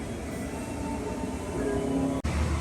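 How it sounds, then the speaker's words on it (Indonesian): Gaya Baru Malam Selatan train hauled by a CC 206 diesel locomotive rolls into Klaten station, a steady low rumble and drone with a rising tone midway and a brief dropout near the end. "masuk untuk Gaya Baru Malam Selatan menggunakan lokomotif tipe CC 206"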